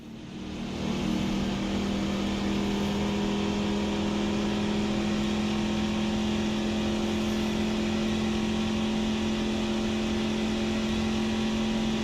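Race truck engines idle and roll at the start of a NASCAR Truck Series video game race at Talladega, a steady droning hum with a strong tonal whine that holds level and loud throughout, with no talk.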